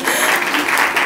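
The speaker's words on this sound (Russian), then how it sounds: "И я жду ваших аплодисментов." Audience applause at a presentation of a women's club, a loud short burst of many hands clapping together with a murmur of voices.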